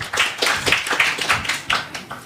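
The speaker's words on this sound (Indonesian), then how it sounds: "Tepuk tangan untuk mereka berempat." Audience clapping at a comedic religious debate event welcoming four guests; a short burst of distinct, fairly close hand claps in an uneven rhythm, without speech.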